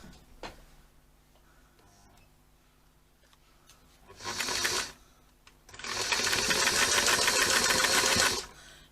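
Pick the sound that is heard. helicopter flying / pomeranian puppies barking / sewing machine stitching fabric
sewing machine stitching fabric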